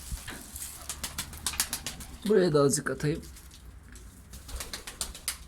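Ankara performance tumbler pigeons coo softly inside their loft amid rustling and scattered clicks, and someone speaks briefly near the middle.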